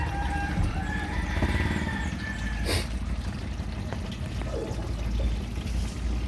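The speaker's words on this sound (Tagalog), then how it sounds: "At lalagyan na natin yung pangalawang gata natin." Coconut milk pours into a pot of cooking vegetables, making a steady liquid gurgle under a bubbling simmer, with a brief louder splash partway through and no voices.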